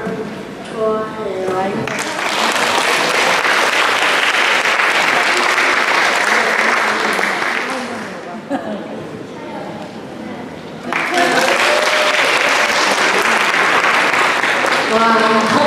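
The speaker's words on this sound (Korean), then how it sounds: "박수 좀 부탁드리고요" A crowd at a church Korean-language school presentation applauds children's performances in two long, loud bursts of clapping, with brief speech before and between them.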